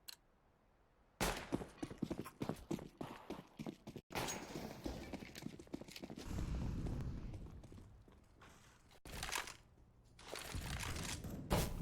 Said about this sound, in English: does get the shot off on Ray